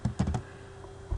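Several quick keystrokes on a computer keyboard, close and fairly quiet, in a short burst of typing with one more key tap after a pause.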